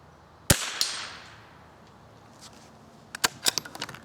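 A Marlin XT-22 .22 rifle fired at steel targets outdoors: one sharp crack early on, then a quick cluster of several snappy cracks and ticks toward the end, no talking.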